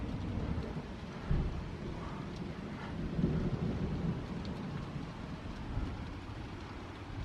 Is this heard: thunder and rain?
yes